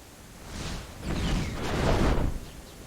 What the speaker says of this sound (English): the rain sound is stuck